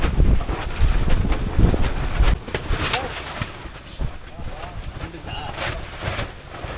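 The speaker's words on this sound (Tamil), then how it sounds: "மழைக்கு முன்ன பயங்கரமான காற்று மழை." Strong gusty wind buffets the microphone at an outdoor campsite just before a heavy rainstorm, a loud, steady roar with rushing surges and brief bursts of rustling.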